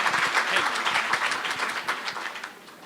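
An audience at the Human Development Foundation gala in Houston applauds, a lively burst of many clapping hands close by that gradually thins and fades toward the end.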